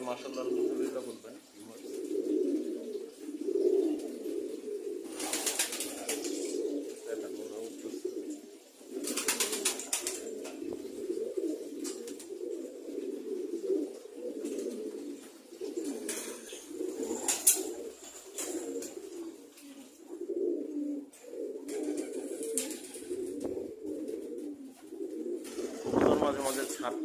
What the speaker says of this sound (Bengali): কবুতরগুলো দেখে সবাই মাশাআল্লাহ আলহামদুলিল্লাহ বলবেন